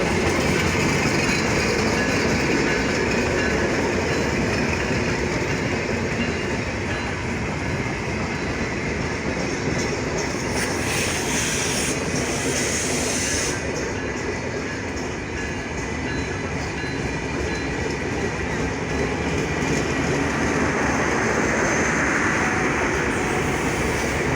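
The Nilsagar Express train arrives at Saidpur railway station in Bangladesh, rumbling steadily with rhythmic clickety-clack of wheels on rails, loud and close, a continuous heavy roar with brief squeals and no talk.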